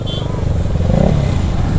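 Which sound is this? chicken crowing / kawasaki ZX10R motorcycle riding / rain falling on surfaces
kawasaki ZX10R motorcycle riding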